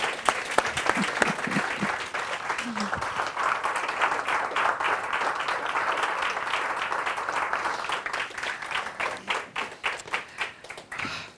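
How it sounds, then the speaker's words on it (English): A standing audience gives a sustained round of applause for Colleen at a Gender Matters launch event, dense clapping from a large crowd that thins into scattered individual claps toward the end. "I think we need to stand up and give Colleen a round of applause"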